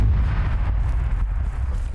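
Distant explosions in the military video game Arma 3, a series of deep booming rumbles rolling one after another across a low continuous roar, with no speech.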